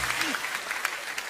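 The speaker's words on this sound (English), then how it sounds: "ladies and gentlemen, big round of applause" A live comedy show audience claps in brief, steady applause of moderate loudness, with a voice faintly audible over it.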